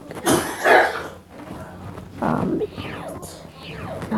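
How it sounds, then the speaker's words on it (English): A couple of short, rough coughs close by, separated by brief pauses, with faint rustling between them. "Dang it, stop coughing"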